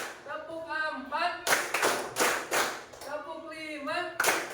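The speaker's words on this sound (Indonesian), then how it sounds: "tepuk tangan dulu untuk kita semuanya" A classroom group claps hands on cue during a lesson on electrical energy, with a few sharp, near claps spaced between the teacher's spoken counting.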